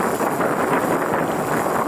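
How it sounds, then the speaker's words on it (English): Steady wind buffeting the microphone of a Solatrike solar tricycle crossing the open Alberta prairie between Drumheller and New Norway, a loud continuous broadband rush with no voices. "I'm running against the wind."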